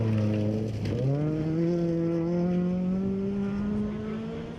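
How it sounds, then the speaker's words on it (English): A Datsun SSS rally car engine at a national rally, one strong droning note that rises as the car accelerates and then holds steady, loud and near before easing off slightly. "The distinctive sound of the Datsun Triple S of Etienne Alherba and Patrick Vermaak"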